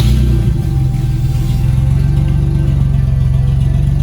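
A turbocharged Nissan 300Z with its exhaust cut off roars close and loud, a deep, rough engine drone that holds steady and strong throughout with no talking.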